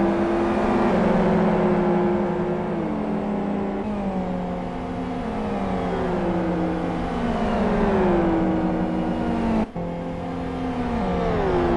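Race cars in the Gran Turismo video game fight three abreast into a hairpin, their whining engines dropping and climbing in pitch through downshifts and acceleration, a loud, continuous, layered drone with no voices.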